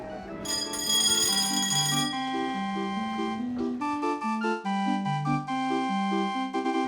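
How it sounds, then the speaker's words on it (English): Bell-like chimes from a carousel at Semaphore, South Australia ring out in a steady run of clear, sustained tones that change pitch like a short tune, fairly loud and close, with no talking. "Please wait for the ride to come to a complete stop and you hear the bell before you climb off your horse."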